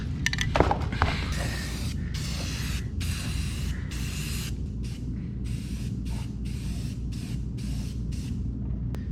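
Short, repeated bursts from a hot aerosol spray can aimed at oil-soaked cardboard on a 1977 Datsun project, each hiss lasting about half a second to a second with brief gaps between, close by and otherwise quiet.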